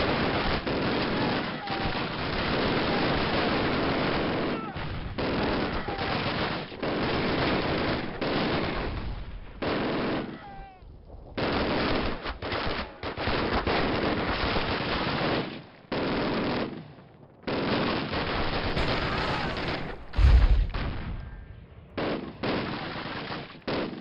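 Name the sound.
MG42 machine gun firing in Call of Duty (2003) video game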